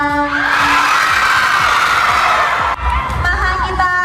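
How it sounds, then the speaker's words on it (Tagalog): Filipino fans in a venue cheer and scream loudly, a dense roar of high voices that breaks briefly and then surges again with shrill shouts. "mas nagpalakas ng hiyawan sa venue"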